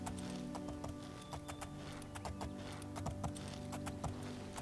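Horse hooves clip-clop in the video game Oblivion, a quick steady trot of hoofbeats over a constant background hum.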